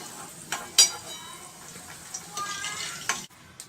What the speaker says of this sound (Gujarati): હવે આપણા બટાકા બરોબર તળાઈ ગયા છે